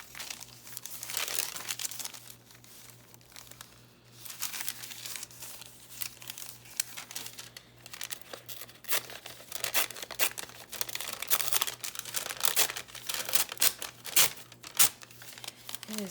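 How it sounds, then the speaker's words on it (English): Crunchy paper crinkling and crumpling up close for a handmade journal, a continuous run of crisp rustling and crackling bursts that grow busier and louder toward the end. "It is some crunchy paper"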